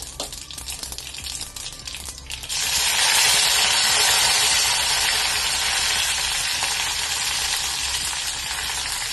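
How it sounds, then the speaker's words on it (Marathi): Quiet kitchen clatter gives way to a loud, steady sizzle of mustard seeds and curry leaves hitting hot oil, which crackles on without pause to the end. "छानशी फोडणी झालेली आहे"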